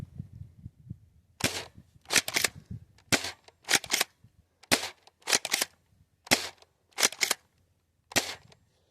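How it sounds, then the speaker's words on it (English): A Dart Zone Max Nitroshot+ Stryker 2.0 foam dart blaster being slam fired: about eleven sharp, loud, close snapping shots in an uneven rapid series, with brief pauses between bursts and quiet handling in between. "I'm going to slam fire the other 20."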